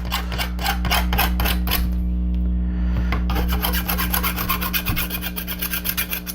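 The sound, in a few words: filing burrs and sharp edges off a model kit part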